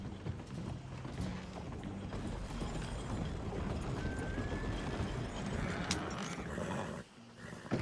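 Horse hooves clip-clop steadily across ground in Red Dead Redemption 2, a continuous rhythmic clatter under dense game ambience, with a few faint whinny-like tones and a brief drop near the end.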